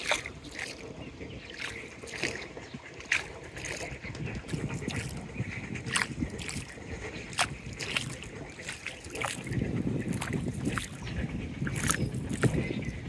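A boat moves through flood water that has risen over a mosque, with soft splashing, trickling and creaking under gusts of wind and occasional distant calls.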